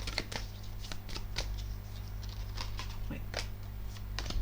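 Tarot cards handled and laid down on a surface: a series of quick, light slaps and riffles in an uneven rhythm over a low steady hum, fairly close and soft.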